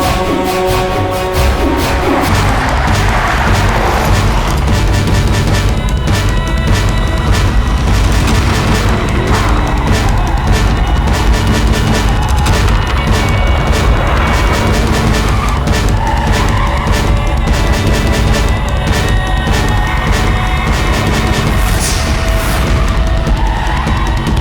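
Car pulling away and skidding during a chase scene in a Hindi film, loud and continuous, with engine roar, tire noise and dense crashing impacts layered over dramatic music throughout.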